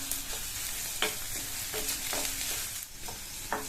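Grated ginger, green chillies and chopped curry leaves sauté in a pan with a steady sizzle, broken by several clear scraping and stirring knocks of a spoon at irregular intervals.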